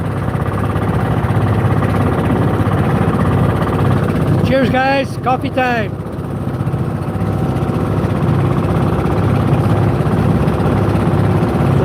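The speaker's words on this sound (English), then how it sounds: "these boats on diesel engines are very efficient, very, very efficient" Diesel engine of a fishing boat running, a steady low idling drone throughout, with a voice talking briefly over it midway.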